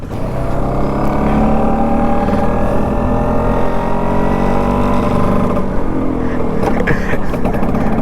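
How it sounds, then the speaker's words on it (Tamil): A Bajaj Super FE two-stroke scooter engine runs loud and close, with a steady buzzing drone that holds even throughout and shifts slightly in pitch near the end. "2 ஸ்ட்ரோக்கோட சவுண்டு அவ்வளோ சூப்பராக இருக்குது"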